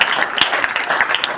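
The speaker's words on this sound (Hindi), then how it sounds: "तो विवेकानंद जी के लिए बहुत जोर से ताली।" Audience applause at a Hindi-language speech event, a steady dense wash of clapping heard alone and fairly loud for a brief moment.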